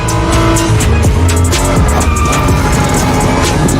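A Honda NSX sports car engine in a racing video game revs hard and continuously, loud and close, with shifting engine tones and a brief tire squeal, no talking.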